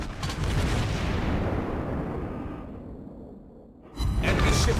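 Heavy naval gunfire booms in a World of Warships Blitz battle as an enemy ship is destroyed, with a loud rumbling blast that fades out, followed by another powerful burst.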